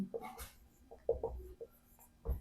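Chalk or marker taps and scratches on a board during a chemical kinetics lesson, with short irregular strokes and pauses that sound close and fairly quiet.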